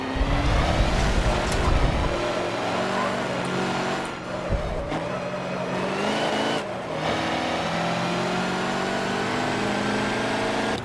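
A race car engine in Forza Motorsport 7 screams at high revs, with gear shifts and brief throttle lifts through a chicane, then climbs again in a steady, loud drone.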